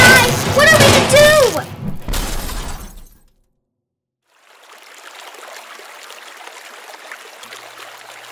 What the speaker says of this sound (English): The plane had crashed.